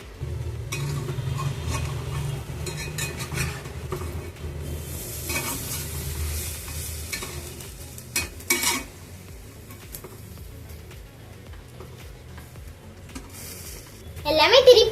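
Honey butter milk buns sizzle and fry in a pan as they are turned over, with a steady low sizzle, light stirring and clinks of utensil against pan, and a louder scrape near the end.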